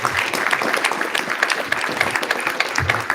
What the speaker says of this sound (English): can everyone please put a big round of applause for our panelists?